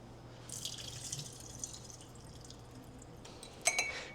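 Tap water runs into a sink as rice is rinsed, a steady faint trickle with a few drips, then a brief louder splash of water near the end.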